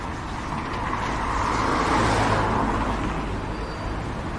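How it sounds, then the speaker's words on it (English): A car passes by on a street, a broad engine-and-tire roar swelling toward the middle and easing off as it moves away, with no talking. "Gonna let this car go by."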